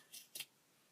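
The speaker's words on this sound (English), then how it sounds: "So here we get our scissors." Scissors snipping through tights in two quick, close cuts, a short pause between them, then quiet.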